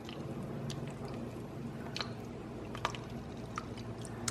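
Pineapple orange salad with banana being stirred in a bowl, producing soft, wet squishing and sticky clicks at a close, quiet, irregular pace.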